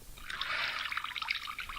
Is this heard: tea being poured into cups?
yes